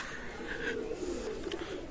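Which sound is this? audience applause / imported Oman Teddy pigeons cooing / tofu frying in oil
imported Oman Teddy pigeons cooing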